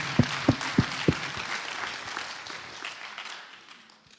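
Audience applause at a church convention in Caen, opening with a few sharp, rhythmic claps and then settling into a steady spread of clapping from a crowd that fades out gradually.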